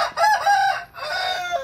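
A rooster crows inside a chicken coop, giving two close, loud cock-a-doodle-doo calls in quick succession with a brief gap between them.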